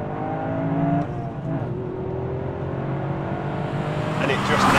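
A Toyota Yaris GR Track Pack hot hatch drives with a steady engine drone and rising pitch under acceleration, heard from inside the car while someone talks over it.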